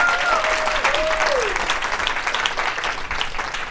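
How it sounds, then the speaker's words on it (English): An audience at a speaking event gives a round of applause, dense clapping held close and steady throughout, with a brief sliding tone heard early on and no clear talking over it. "giving a quick round of applause for both the speakers before me"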